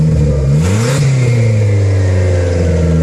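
Car engine revving hard from inside the cabin, a loud continuous drone with rising and falling pitch as the RPM climbs, close and filling the clip with no talk.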